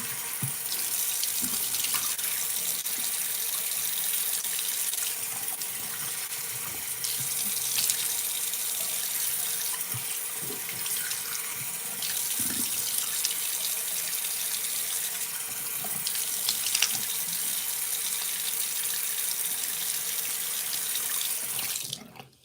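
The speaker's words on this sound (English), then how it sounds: "Now I want to watch me wash my face." Tap water running steadily into a sink during face washing, a constant loud hiss throughout with faint handling noises and no talk.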